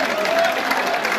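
An audience at an outdoor banda festival in Mazères applauds the band, a dense steady wash of clapping and crowd noise with a faint tonal line running through it.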